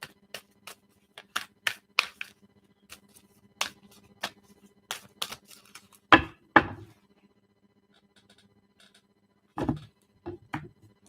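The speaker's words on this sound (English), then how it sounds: "We're going to make sure we shuffle these cards up good," Playing cards are shuffled close by, heard as a scattered series of sharp, light taps and flicks with a couple of louder riffling bursts and quiet gaps between.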